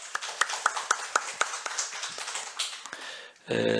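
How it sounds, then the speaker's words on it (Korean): Sunday-morning church congregation clapping in encouragement, a quick, even run of crisp claps that thins out before a sustained musical tone takes over at the end. "우리 격려 박수하겠습니다"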